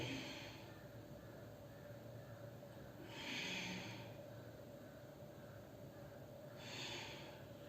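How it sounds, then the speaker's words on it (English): Three slow, deep breaths during a yoga stretch, each a soft, close airy inhale or exhale spaced a few seconds apart over a quiet room. "3 deep breaths in"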